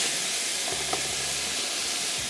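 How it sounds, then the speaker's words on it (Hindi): Ginger and garlic fry in a pan with a continuous close sizzle and steamy hiss, steady throughout with a faint low hum beneath. "कोई अदरक लहसुन जब शामिल करें, कोई 1 मिनट की फ्राइंग करेंगे"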